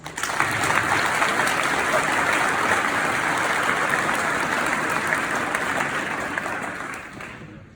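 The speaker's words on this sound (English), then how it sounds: "Let's all have a round of applause." A large audience at a high school senior honors ceremony gives a sustained round of loud, dense applause that holds steady and then tapers off at the end.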